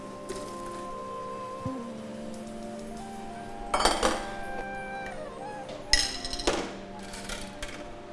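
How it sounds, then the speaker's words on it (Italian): Dried peas tipped into a steamer basket while cooking rabbit meatballs, giving a few scattered clinks and rattling bursts against metal and container, moderately close, with quiet kitchen background between. "andiamo a inserirlo nel cestello, inseriamo i piselli"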